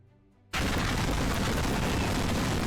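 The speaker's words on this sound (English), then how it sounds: "a catastrophic explosion rocks the land" After a quiet moment, a huge explosion erupts suddenly and roars on as a loud, sustained rumbling blast.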